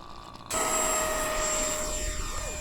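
A radio-controlled model jet, a Phantom, flying overhead at an RC airfield, its turbine rising abruptly from a quiet start into a loud steady whine with a sweeping tone as it passes.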